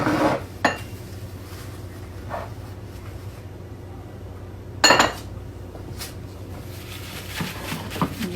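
A casserole dish is picked up and set down on a counter, making a sharp clink near the start and a louder clatter midway over quiet kitchen room tone.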